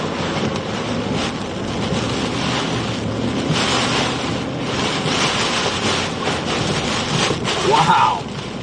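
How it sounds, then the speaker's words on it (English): Steady roaring wind from Hurricane Debby buffets the microphone, swelling into stronger gusts with a loud push near the end. "These winds are definitely gusting now"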